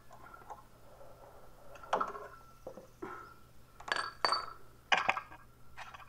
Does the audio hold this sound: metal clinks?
yes